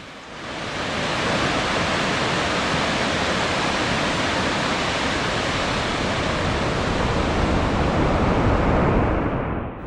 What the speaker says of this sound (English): the falls forms a solid curtain of water about a mile wide